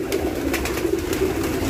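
Pigeons cooing in a loft, repeated soft throaty coos from several birds close by, overlapping in an uneven rhythm against a low background hum.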